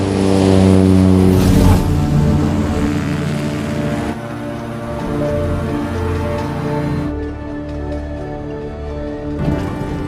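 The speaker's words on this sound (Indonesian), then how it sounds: "Tanpa membuang waktu, Daryl pun segera lepas landas." A small, rickety propeller airplane takes off with a loud, steady droning hum that swells early, eases slightly and holds its pitch throughout, heard up close with no voices.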